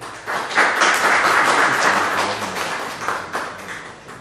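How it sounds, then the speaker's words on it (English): An audience at a humanitarian seminar and awards event applauds distinguished guests, a full round of clapping with sharp individual claps rising quickly, holding, then thinning out. "We have a round of applause for all of them."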